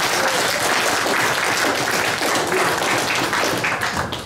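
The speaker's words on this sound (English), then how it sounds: "give yourself a round of applause" A conference audience applauds at a Ghana food sovereignty event, a dense, steady wash of clapping that stays loud and even throughout before easing slightly at the end.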